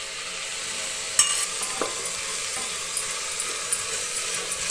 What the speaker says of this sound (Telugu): ఇలా బాగా వేగిన తర్వాత టమాటో వేసుకున్నాం.